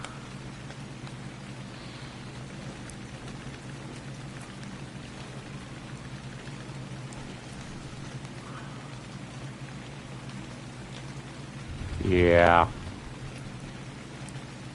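Steady rain pours in the video game Ark Survival Ascended, a continuous hiss that runs evenly throughout, with someone briefly speaking near the end.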